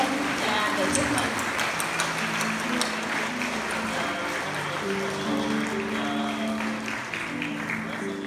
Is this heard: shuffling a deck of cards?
no